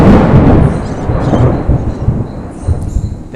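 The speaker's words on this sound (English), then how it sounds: "There's that thunder." Heavy thunder rolling loud and near, a deep sustained rumble with surging peaks that fade and return, a faint patter of rain beneath.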